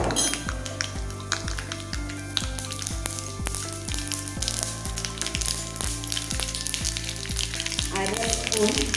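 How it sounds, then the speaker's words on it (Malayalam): Mustard seeds sizzling in hot coconut oil with a bright, constant crackling hiss, heard alongside rhythmic background music with a regular pulsing beat. "വെളിച്ചെണ്ണ ചൂടായിട്ടുണ്ട്. നമുക്കിതിലേക്ക് 1 സ്പൂൺ കടുക്,"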